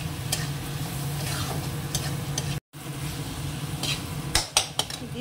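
Spice masala with green chili and tomato sizzles steadily in a pan, with intermittent stirring scrapes and a few sharp utensil clinks near the end.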